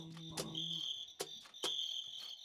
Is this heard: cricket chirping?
yes